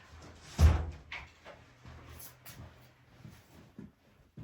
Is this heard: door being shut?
yes